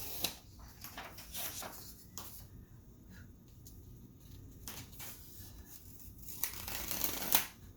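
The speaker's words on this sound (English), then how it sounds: "Now I'm taking the pictures off." Sublimation transfer pictures pulled away from a freshly pressed fabric blanket: steady close papery rustling and sliding, rising to a louder crinkly burst near the end, with no voices.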